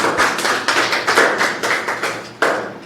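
An audience at a book release function claps to welcome a guest, a short burst of irregular, fairly close applause lasting a few seconds, with no talk over it.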